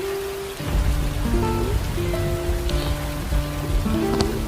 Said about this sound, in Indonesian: Dan kebetulan pagi itu hujan gerimis, udara terasa dingin.